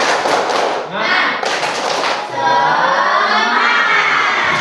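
A school class performs a rhythmic group spirit clap, with thumping claps and taps mixed with children's shouting and chanting voices, loud and close, ending in a sustained group shout.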